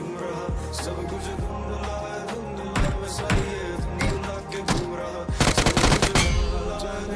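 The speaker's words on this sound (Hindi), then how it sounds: "फायरिंग तो आ रही थी यहाँ से" Bursts of gunfire from the BGMI video game crack over a steady in-game background hum, scattered single shots giving way to a rapid automatic volley toward the end.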